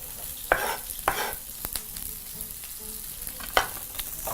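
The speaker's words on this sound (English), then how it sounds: "your onions are now beautifully sweating away" Finely chopped onions sweating in a pan, with a soft steady sizzle and a few sharp clacks of a utensil against the pan, heard close with no talking.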